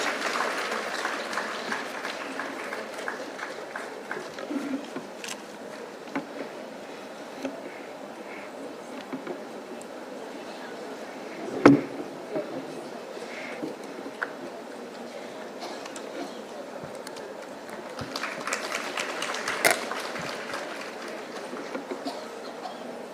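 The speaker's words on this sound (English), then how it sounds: "I request all the audience to please have a huge round of applause" Steady applause from a large audience at an academic conference fills the room for the whole stretch, swelling slightly near the end, with one brief louder knock midway.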